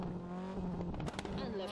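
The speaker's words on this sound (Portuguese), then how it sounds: "Barulho do motor e as marchas. Espetacular." A rally car engine in the WRC 10 racing game revs hard with quick gear shifts and tire noise, loud and continuous, with a voice talking over it.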